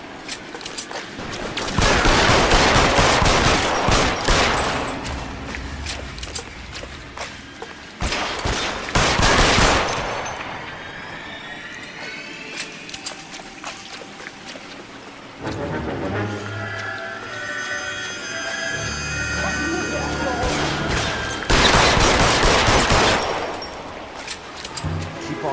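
Bursts of gunfire from the 1940s Los Angeles detective game L.A. Noire, loud rapid volleys in several clusters separated by brief lulls, with engine-like drones and other game sounds between them.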